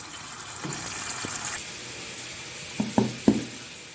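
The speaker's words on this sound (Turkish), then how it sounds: "Ciğerimizi pişmeye bırakalım. Üzerini kapatıyorum." Liver sautés in a covered pan, a faint steady sizzle and hiss beneath a few soft lid or utensil knocks near the end.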